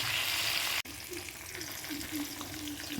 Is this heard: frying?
yes